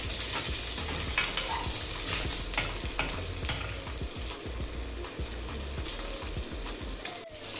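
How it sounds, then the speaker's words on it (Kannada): Eggs fry in a pan for egg biryani, a steady close sizzle with frequent scraping stirs of a spatula against the pan, continuous and unaccompanied by speech. "ಮೊಟ್ಟೆ ಹಿಂಗೆ ಚೆನ್ನಾಗಿ ಫ್ರೈ ಮಾಡ್ಕೊಬೇಕು."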